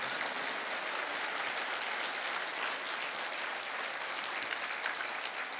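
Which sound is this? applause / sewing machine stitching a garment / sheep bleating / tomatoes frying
applause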